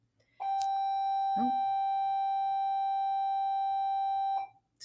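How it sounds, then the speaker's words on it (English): School bell rings in a steady, electronic chime-like tone that sounds loud and continuous for about four seconds before stopping, with a brief spoken exclamation partway through. "Sorry, had to wait for the bell."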